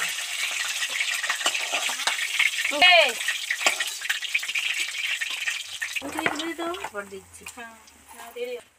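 Pangas fish deep-frying in hot oil sizzles steadily with a bright crackling hiss, broken by a clank of a utensil against the pan as the fish is lifted out, while a voice talks toward the end.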